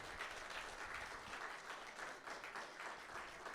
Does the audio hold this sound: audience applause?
yes